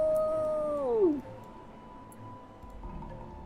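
A wolf in the strategy game Ara: History Untold lets out a single long howl that slides downward in pitch and cuts off after about a second, leaving quiet game ambience behind.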